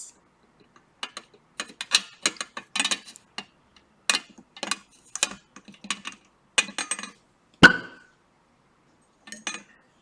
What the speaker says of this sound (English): With hydrogen, we get a pop sound.